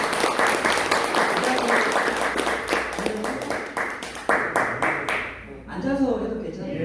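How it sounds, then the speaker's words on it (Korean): Audience applause greets a guest speaker at a Locus Chain meet-and-greet, a dense steady roar of clapping that thins toward the end, with a few voices speaking under it as it fades. "박수로 알베케인 얘기하겠습니다"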